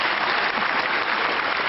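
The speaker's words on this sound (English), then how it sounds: "Why are they clapping?" A studio audience claps in steady, dense applause that fills the whole short stretch, loud and even with no voices over it.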